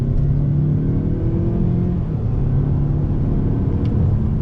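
A 2020 Mazda 6 sedan engine hums steadily and builds as it accelerates, a continuous mid-pitched rumble heard from inside the vehicle with no talking.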